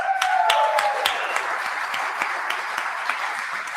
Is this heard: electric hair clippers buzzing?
no